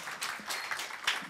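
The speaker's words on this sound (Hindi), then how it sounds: "एक बार ज़ोरदार तालियां हम बजाते हैं।" An audience at a theatre-and-cinema panel event claps to welcome actor Makarand Deshpande, a short burst of moderate applause with a few sharper claps standing out.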